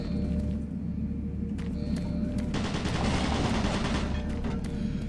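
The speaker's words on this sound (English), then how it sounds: "automated turret guns online." Automated turret guns in the video game Doom 3 fire as a dense, loud, continuous barrage of rapid shots, joined partway through by a brighter burst of heavier fire, with no speech over it.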